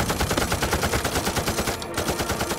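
Rapid, continuous machine-gun bursts of covering fire in a war film, loud and close with a fast, steady rhythm throughout.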